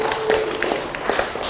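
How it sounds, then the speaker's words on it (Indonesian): Applause from a studio audience at a chatty Indonesian talk show with film cast members, a steady patter of clapping that runs continuously at moderate loudness, with faint voices mixed in. "Tepuk tangan buat"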